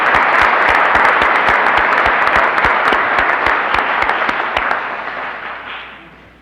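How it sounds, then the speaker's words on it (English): A hall audience at the 1965 Stevenson High School dedication ceremony gives gentlemen a round of applause, loud dense clapping with a few sharp standout claps, steady for several seconds before gradually thinning and fading out. "Let's give these gentlemen a round of applause"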